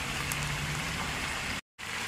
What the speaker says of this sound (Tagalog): Second batch naman, guys. Ating i-pan fry.